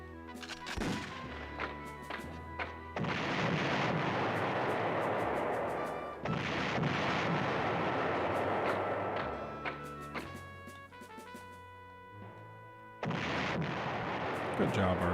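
Artillery fire in the PlayStation 1 retro war game Panzer General booms in heavy repeated blasts with long rumbling decays, several salvos across the stretch, close and loud.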